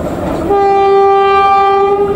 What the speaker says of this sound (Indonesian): Kereta api komuter lain lokal Bandung Raya Ekonomi